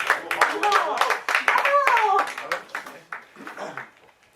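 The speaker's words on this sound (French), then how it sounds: "Remerciez-le. Applaudis." Hands clapping at a French stage comedy performance, a burst of claps mixed with talking voices, including a child's, fading out after a few seconds.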